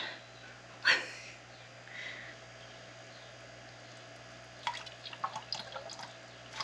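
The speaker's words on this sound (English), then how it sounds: "So I have a feeling that this is going to drain through pretty quickly." Elderflower cordial syrup drains through a cloth, giving a few faint, sparse drips: one clearer drop early, then a quiet cluster of small drips near the end over low room hum.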